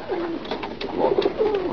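Racing pigeons coo in a loft, several soft, throaty calls rising and falling close by, with no talking.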